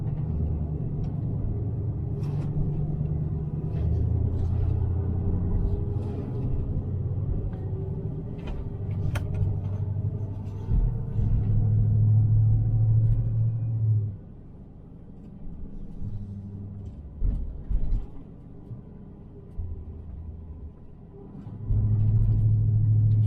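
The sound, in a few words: car driving, interior road rumble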